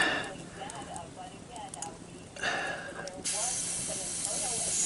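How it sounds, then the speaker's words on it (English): Steady hissing sizzle of hot food cooking, loud and close, with a voice talking faintly underneath and the sizzle swelling louder toward the end. "Sizzles."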